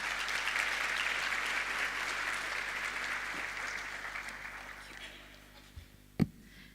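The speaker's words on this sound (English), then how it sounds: "Let's welcome her with a big round of applause." An audience at an international academic conference applauds with sustained clapping that slowly fades out, ending with a couple of thumps.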